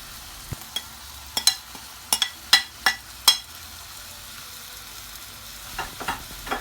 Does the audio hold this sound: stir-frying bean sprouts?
yes